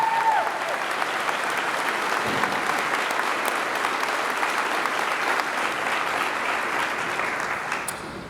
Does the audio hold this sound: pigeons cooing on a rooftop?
no